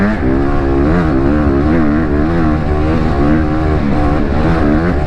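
A dirt bike engine revs hard while riding, its pitch rising and falling in steady waves as the throttle opens and eases; loud, close and constant, with no talking.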